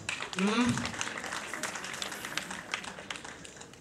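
Wedding guests clap in scattered, uneven applause while a voice keeps talking over them.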